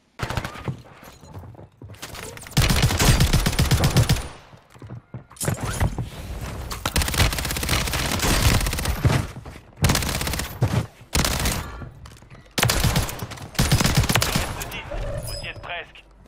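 Assault rifle gunfire from Warzone Season 6, loud sustained automatic bursts broken by short pauses, with dense crackling shots filling the clip.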